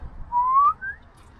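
A Turkish wolf whistle fitted to a Scania V8 truck gives one clear two-part call: a long rising tone, a brief pause, then a shorter, higher rising note, fairly faint over a low rumble.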